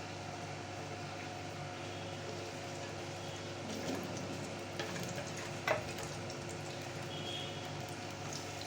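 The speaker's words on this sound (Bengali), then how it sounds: "একটু নেড়ে নেব।" Whole cinnamon sticks, cardamom, cloves and peppercorns fry in oil while being stirred, a soft, steady sizzle with a couple of faint scraping clinks near the middle.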